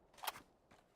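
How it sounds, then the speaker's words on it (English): Weapon reload in PUBG: a quiet, close mechanical clack-click of the magazine going in, then a softer second click a moment later. "Gonna get a quick reload."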